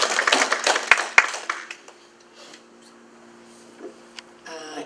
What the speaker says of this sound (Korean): 박수를 청하겠습니다.